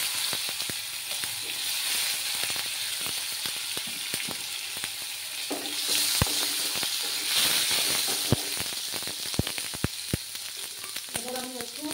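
Chopped tomatoes sizzling in a hot pan, a steady loud hiss of frying with scattered crackles and pops throughout, close up.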